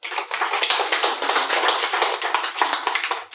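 Workshop audience applauding steadily, a dense, loud burst of many hands clapping together for over three seconds with no talk.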